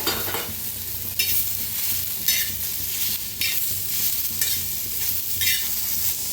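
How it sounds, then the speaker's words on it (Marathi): Onion, tomato and fresh coriander roast in oil in a pan, a constant sizzle broken by rhythmic scraping stirs roughly once a second, close and without any talk. "त्याच्यातच टाकूया टमाटर आणि कोथिंबीर, ते बी भाजून घेऊया"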